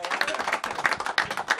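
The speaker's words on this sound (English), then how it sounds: "round of applause" A small round of applause breaks out, a short burst of steady clapping from a few people in a casual studio setting.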